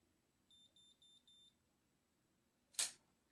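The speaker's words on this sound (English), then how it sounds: "you really just close it, and it beeps, it's timed" Four short, high electronic beeps from a hair curler's timer in an even rhythm, quiet and close, then a sharp hissing burst after a pause.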